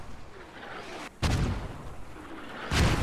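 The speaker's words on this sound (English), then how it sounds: "Mortars hitting this close to their..." Mortar shells burst in a tactical video game match, with two deep booms over a steady rumbling battle background.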